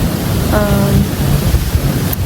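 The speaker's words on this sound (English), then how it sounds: "it was so windy" Gusty wind buffets the microphone in a dense, rushing roar, with a faint voice briefly underneath.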